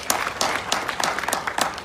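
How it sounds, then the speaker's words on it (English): Audience clapping for Pamela Boti at a surprise 50th birthday gathering for Omoyele Sowore: a scattered round of hand claps with irregular individual slaps, moderately near, over soft background murmur. "Clap for Pamela Boti now."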